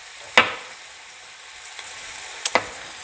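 Vegetables for a beef stir fry frying in a pan, a soft continuous sizzle broken by a few sharp crackles and pops, close by with no talking.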